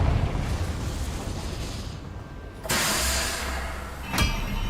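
A Confringo spell explosion in the Hogwarts Legacy video game, heard as a sudden bright blast followed by a sustained roar and a second short burst, over a rumbling game soundscape.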